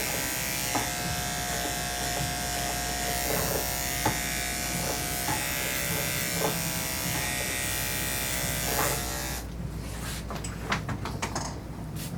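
Electric dog grooming clippers fitted with a 2 guard buzz steadily and close up as they trim a dog's coat, holding one even drone before cutting off near the end, followed by faint handling noises.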